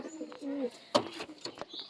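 Madras pigeons cooing in short low bursts, mixed with brief chirps and sharp clatter, with faint voices nearby.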